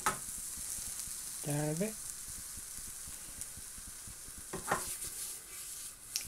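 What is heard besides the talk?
homemade beef burger sizzling in frying pan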